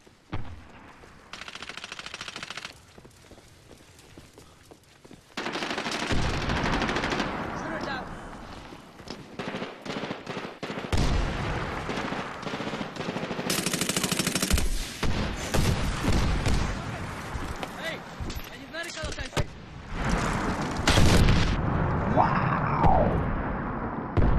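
Rapid machine-gun bursts and heavy booms from the shooter game Medal of Honor Warfighter, loud, dense and sustained for most of the stretch, with a quieter opening before the firefight erupts.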